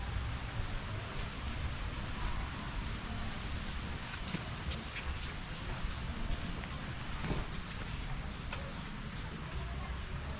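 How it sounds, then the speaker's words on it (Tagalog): Rain falls outdoors on a rural garden plot, a soft, steady hiss of drops with occasional louder patters, fairly faint and continuous throughout, while people talk quietly underneath. "Nabutan tayo ng ulan."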